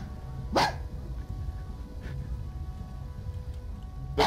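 Dog barking inside the video game GTA 5, with two or three sharp barks spaced a few seconds apart against a low, steady background hum.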